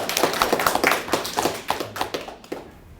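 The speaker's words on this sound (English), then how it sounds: "Oh yeah, clapping." Scattered clapping from a small panel audience at an alumni Q&A, a few claps of uneven rhythm over roughly three seconds, fairly near, fading toward the end.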